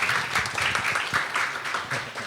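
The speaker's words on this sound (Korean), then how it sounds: "큰 박수로 한번 맞이해 주시기 바랍니다" An audience claps to welcome a Korean food artist onto a low-ceilinged stage; a short, moderately loud burst of steady clapping from a modest crowd.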